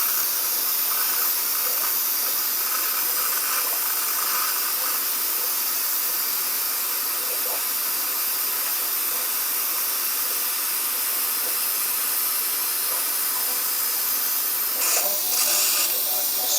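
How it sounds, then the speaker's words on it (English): A canning steamer gives off a loud, continuous broadband hiss of steam throughout, with brief sputtering bursts near the end. "So we got this canning steamer coming over here, so there's a lot of noise."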